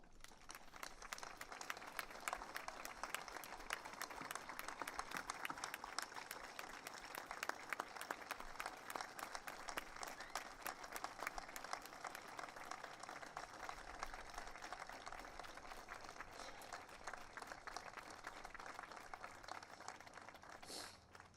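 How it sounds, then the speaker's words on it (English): At an outdoor Memorial Day ceremony in Anchorage, an audience gives veterans a long, steady round of applause, a continuous patter of many hands heard at a distance for about twenty seconds. "raise your hand and please be recognized for a worthy round of applause"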